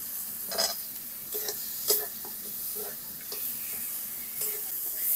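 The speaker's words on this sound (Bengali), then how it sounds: "আলু দিয়ে মশলার সঙ্গে 2-3 মিনিট ভালো করে ভেজে নিয়েছি" Potatoes fry with spice paste in a pan, a soft steady sizzle broken by intermittent scraping stirs of a utensil against the pan, close up with no talking.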